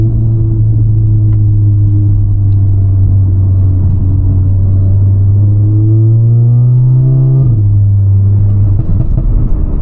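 An Audi A3 1.5 TSI engine drones steadily, then its pitch climbs as it revs and accelerates before dropping with a gear change; close, loud, no talking.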